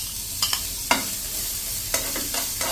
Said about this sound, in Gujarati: જીરું નાખી દેશું અને જે આપણા કાંદા અને મરચાંને ઝીણા સમાર્યા છે એને નાખી દઈ